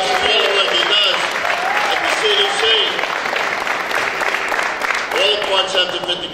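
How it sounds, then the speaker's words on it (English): Audience applause at a community gathering in Center City Paterson fills the room, a dense, loud clapping wash that holds steady, with voices calling out over it at moments. "let's give Bob Garacci a great round of applause"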